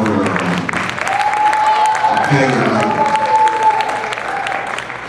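Church congregation clapping and cheering in steady, dense applause with a sustained whistle or high voice held above it, and people talking underneath.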